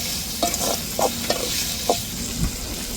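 Onions, tomatoes, ginger and garlic sauté in a pan for a crab-meat fry, with a steady hiss of frying and several sharp stirring scrapes at irregular intervals, close up and without talk.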